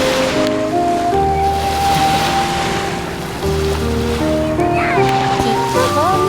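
Ocean waves and surf wash in a broad, continuous hiss and roll beneath voices that talk over them.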